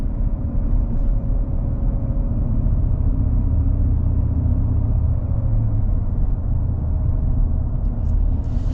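Supercharged V8 of a lifted 2025 Ford F-150 Black Widow, heard as a steady, heavy low rumble while driving, constant and loud with no break.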